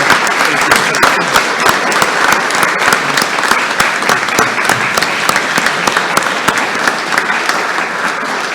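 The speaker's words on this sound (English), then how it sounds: "If we give her a big round of applause and thank her for her service." An audience at an AFJROTC summer flight academy awards ceremony gives Chief McKean a big round of applause, a loud continuous patter of many hands with sharp individual claps standing out throughout.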